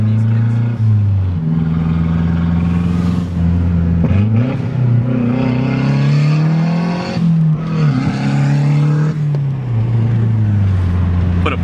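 A Mazda car with a worn, suspect bearing drives and accelerates through repeated pulls, engine drone rising and falling in pitch between gear changes, loud and close from inside the cabin, with a person talking over it at times.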